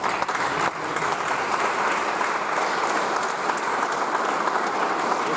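Steady, dense applause from a theatre audience at a masked stage show fills the whole stretch, loud and continuous with no voices rising above it.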